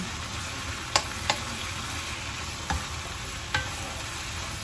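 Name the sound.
shrimp added to pan with olive oil, sizzling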